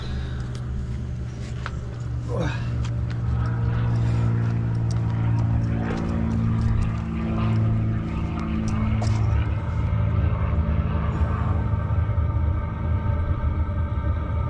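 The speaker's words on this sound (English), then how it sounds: "Pump's kicked in, it's now pumping hot air." A Maxpeedingrods Chinese diesel heater runs with a steady, close mechanical drone and low rumbling hum, while its fuel pump ticks faintly in the background throughout.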